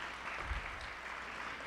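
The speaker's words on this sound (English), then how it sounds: "Let's give our parents a warm round of applause as well." Applause for parents at a student travel info meeting, soft steady clapping from a room of people, faint and continuous.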